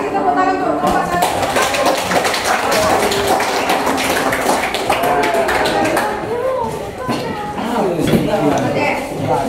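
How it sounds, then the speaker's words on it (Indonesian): A classroom group during a teacher-training presentation claps steadily for several seconds, a close, dense patter of hands with some voices mixed in. "kasih tepuk tangan untuk Bapak saya"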